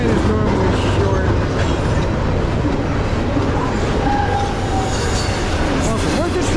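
A short Norfolk Southern diesel freight train led by a rebuilt Dash 9-44CW locomotive rumbles past close by in South Plainfield, New Jersey, a dense, continuous roar of engine and rolling wheels with faint metallic squeals.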